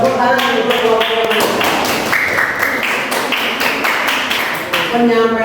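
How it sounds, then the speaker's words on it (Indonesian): Applause for a student group after a class presentation in an Islamic religious education session: a dense burst of hand clapping that fills the whole stretch, with voices heard at the start and end. "Tepuk tangan untuk kelompok."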